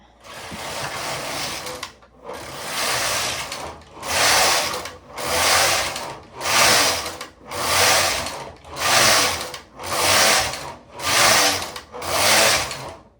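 A knitting machine carriage works worsted weight yarn in loud, regular back-and-forth passes, about nine sweeps of whooshing clatter, each lasting roughly a second, with no voices.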